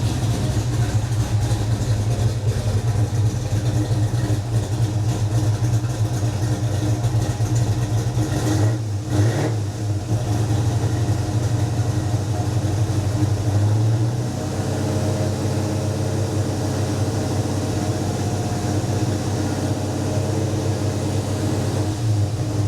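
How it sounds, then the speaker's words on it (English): A Ford big block V8 in a project car idles with a steady, deep low rumble that runs loud and close throughout, with a brief dip and change in tone partway through. "We got to talking about his project Ford that he's been building with the big block engine, and he decided to give it a start up"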